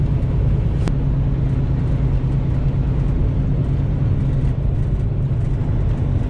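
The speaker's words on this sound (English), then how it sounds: "we're catching a big pack of that interstate traffic here" Heavy interstate traffic roars steadily past a truck on icy roads, a dense continuous low rumble and tire wash with a single sharp click near the start.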